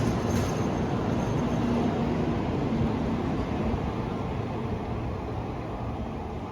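A Shinkansen bullet train, an electric train with 32 induction motors producing about 13,000 horsepower, pulls into a station. It makes a loud, steady, broadband rumble and rush that fades slightly as the train slows.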